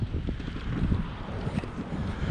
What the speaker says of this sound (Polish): Wiaterek trochę w twarz, ale to nic.